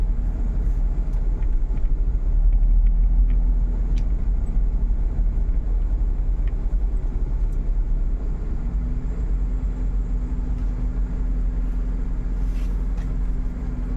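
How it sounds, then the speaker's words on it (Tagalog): Road traffic heard from inside a vehicle, a steady low engine and road rumble with faint passing noises, continuous and fairly loud, no talking. "Traffic po guys."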